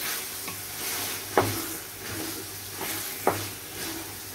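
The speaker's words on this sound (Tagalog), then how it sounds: "mga 5 minuto din na paggisa nitong kamatis" Chopped tomatoes sauté in a pan as the base for a beef ragout, a quiet continuous sizzle broken by a few sharp scraping stirs of a utensil against the pan, with no talking.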